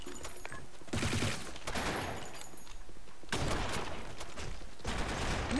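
Dense, continuous gunfire from the online shooter game Blackshot, loud sustained bursts with brief dips between volleys and no audible talking.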